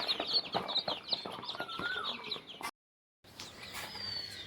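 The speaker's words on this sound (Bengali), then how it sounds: "এটা হচ্ছে গলাচিলা মুরগি" Desi naked-neck hens on a chicken farm cluck and chatter in quick, close bursts, broken by a short moment of silence before the clucking resumes.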